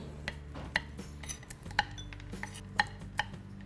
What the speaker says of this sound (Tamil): இந்த ட்ரை ஃப்ரூட்ஸை இது மாதிரி சின்ன சின்ன பீஸாக கட் பண்ணிங்க